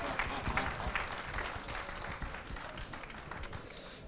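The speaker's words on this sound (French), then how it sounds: "Applaudissements, messieurs, dames, encore, s'il vous plaît." An audience applauds at the 24 Hours of Le Mans 2025 scrutineering event. The clapping is a dense, steady, fairly quiet wash for the whole stretch.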